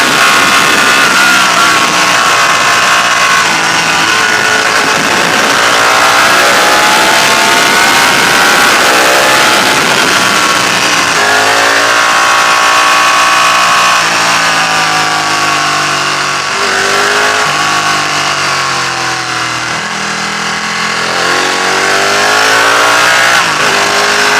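Ducati Panigale 1299 S sport bike ridden hard in race mode on a twisty, bumpy B road, its loud engine rising and falling through repeated revving accelerations and gear changes, close and continuous with wind roar.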